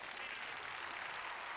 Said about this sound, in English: I do hear a lot of claps in the grandstand.